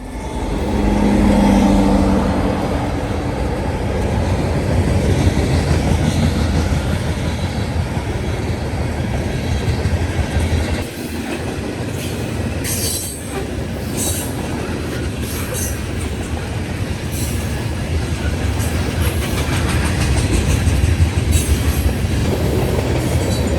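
A long freight of ethanol tank cars to Tampa rolls past behind NS, UP and BNSF locomotives, one in Executive paint, with steady loud wheel rumble and clatter, brief horn-like tones and occasional squeal throughout.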